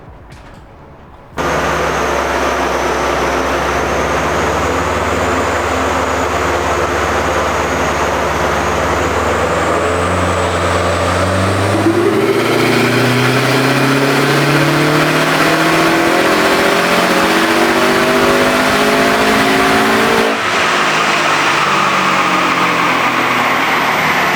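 A loud turbocharged Subaru WRX/STI engine on a dyno starts abruptly, then revs up through rising pitch in a long sustained pull with whining, holding high before easing slightly near the end.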